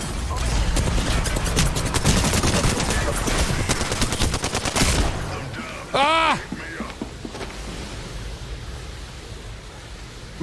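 Rapid bursts of automatic gunfire in the battle royale shooter Apex Legends, loud and dense for the first five seconds, then a sharp ringing impact and scattered quieter shots over a steady noisy game background.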